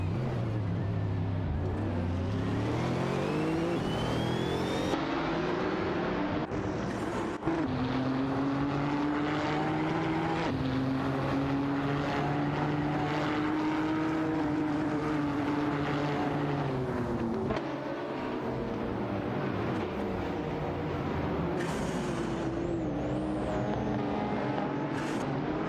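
Race car engines roar in a racing game, including a Bugatti Chiron and a Radical RXC Turbo 620, with droning engine tones rising and falling through gear changes and a few abrupt shifts, loud and continuous throughout.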